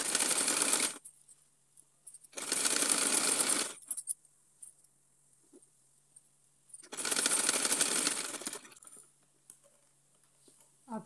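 Cotton cloth for a small deity outfit being stitched on a sewing machine: three sustained bursts of rapid motor-driven needle chatter, close and loud, separated by quiet pauses with faint handling noises.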